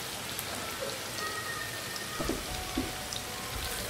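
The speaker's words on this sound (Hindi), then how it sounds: "और इनको हम फ्राई करते जाएंगे।" Onions frying over high heat in hot oil for crispy brown fried onions, a steady dense sizzle and crackle like rain, continuous and close with a few sharper pops.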